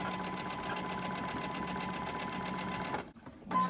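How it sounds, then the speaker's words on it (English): Sewing machine running straight stitching, a steady fast mechanical whir with even rhythmic needle clatter, close and fairly quiet, stopping briefly near the end before restarting. "All the straight stitching."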